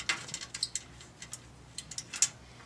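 Bolts being taken out of a Harley-Davidson Roadster's slip-on exhaust, heard as a run of light metallic ratcheting clicks and small clinks at close range, irregular and fairly quiet, with no talking.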